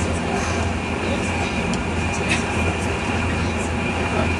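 Interior of an InterCity 225 train in motion, a steady loud rumble and broadband running noise filling the cabin throughout, with no clear breaks or distinct events.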